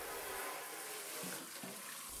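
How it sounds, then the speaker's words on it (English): Warm water runs steadily from a sink tap to rinse the bottom basket of a Cosori air fryer, a close, continuous hissing splash that shifts slightly as the basket moves under the stream. "First, run some warm water, and rinse off any tiny, leftover crumbs that are in the bottom basket."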